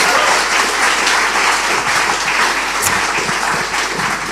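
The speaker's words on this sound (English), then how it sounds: "Give these guys a massive round of applause." A crowd applauds loudly and continuously, dense clapping sustained throughout without any speech.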